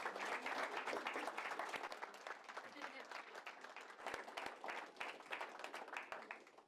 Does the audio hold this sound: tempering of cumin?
no